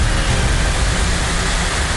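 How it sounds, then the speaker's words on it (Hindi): Heavy rain falling in Shimla, a dense, steady, loud hiss of downpour without breaks or other distinct sounds. "बेहिसाब बरसात हो रही है"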